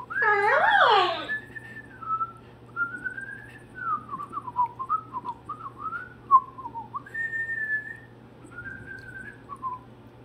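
An Alexa smart speaker whistles a short melodic tune in clear, bright electronic phrases, preceded by a brief burst of a voice or animal sound at the start.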